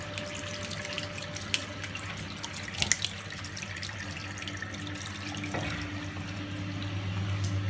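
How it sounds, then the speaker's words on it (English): Steady rush of water draining from a Miele G 560 dishwasher after pre-wash, continuous with a low hum underneath and a couple of brief clanks. "So it's draining out the water."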